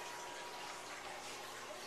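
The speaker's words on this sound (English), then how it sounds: "Now I poured another 3/4 cups of water in here." Water pours steadily into a bowl of flour and yeast for homemade pita bread dough, a continuous close hiss and gush with no talking.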